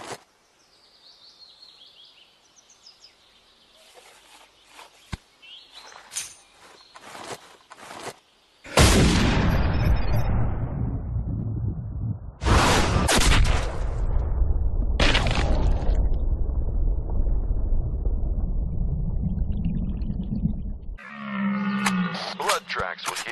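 A hunting rifle shot in Cabela's Big Game Hunter video game: after a quiet stretch, one sharp, loud blast booms out and rolls into a long echoing decay, followed by further sharp reports.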